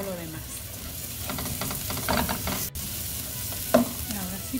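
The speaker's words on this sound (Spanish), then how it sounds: "lo que voy a poner primero es el ajo y la cebolla para que suelte todo su sabor. Lo voy a freír un poquito" Garlic and onion fry in oil alongside rice, a steady sizzle broken by scraping stirs and a few clanks of a utensil against the pan.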